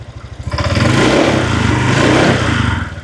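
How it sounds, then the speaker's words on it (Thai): A used Honda Click 125i scooter engine revs up hard from idle, holding a loud, steady buzzing drone close to the microphone before easing off slightly at the end. "เดี๋ยวจะลองเบิ้ลให้ฟังเสียงเครื่องกันแบบชัดเจนกว่านี้อีกนิดนึงนะ"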